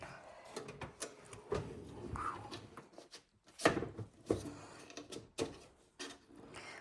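A kitchen pantry drawer unit is pulled open from the bottom, making a series of close clunks, knocks and sliding rattles in a quiet room.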